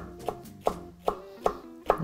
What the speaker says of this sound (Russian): Нарезаем просто перец.